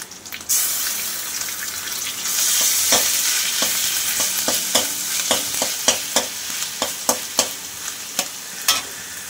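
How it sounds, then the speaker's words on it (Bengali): Onion and garlic fry in a pan while being stirred, with steady sizzling under repeated sharp scraping and clinking strokes of the spoon against the pan, close and loud, with no talk. "পেঁয়াজটা ভাজা হয়ে গিয়েছে, এইবার পেঁয়াজটা সাইড করে আমি রসুনটা দিয়ে দেব।"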